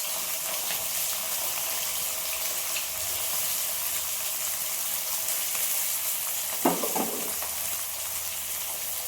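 Onions fry in oil with mustard seeds, cumin and fenugreek, making a steady close sizzle with stirring and a short clatter partway through.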